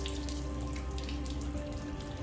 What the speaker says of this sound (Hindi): वैसे पानी इस वक्त तेज है, मुझे हल्का करना चाहिए